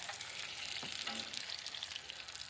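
Trout frying in grease over an outdoor fire, a soft, steady sizzle and crackle with faint spits of fat, no talk over it.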